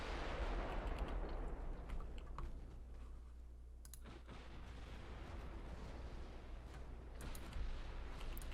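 Battleship guns in Ultimate Admiral Dreadnoughts rumble in a low, continuous barrage, with a few sharp crackling bursts rising above it near the middle and the end, fairly faint and without speech.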